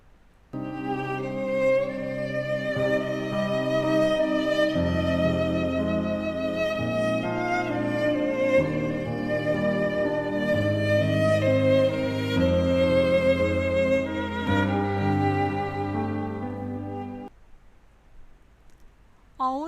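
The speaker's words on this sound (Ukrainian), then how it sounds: "моя улюблена скрипка. Послухайте, як вона звучить, неначе співає." A violin plays a sustained, singing melody with rich harmonics, steady and fairly loud, ending abruptly near the close.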